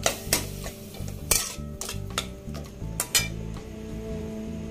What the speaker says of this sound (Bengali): খুন্তি দিয়ে একটু ঘেঁটে দিতে হবে